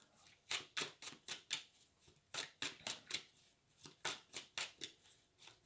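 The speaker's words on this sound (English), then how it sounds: "let's start shuffling and we will get the clarifiers out" Tarot cards riffle in quick bursts of crisp, papery flutters, several rounds in a row with short pauses between, close and clear with no talking.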